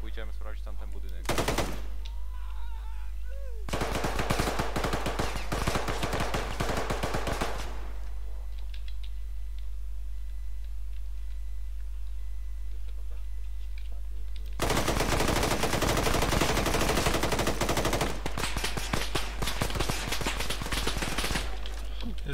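Airsoft guns firing in rapid automatic bursts on an outdoor skirmish field, long loud rattling strings with quiet gaps between them over steady wind rumble.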